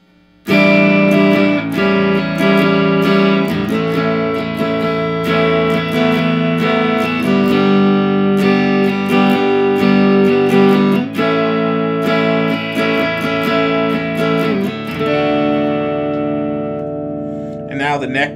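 Clean electric guitar on the neck pickup of a Squier Debut Stratocaster or Tease ST-1, bright sustained chords and picked notes ringing steadily and loud, alone without talk.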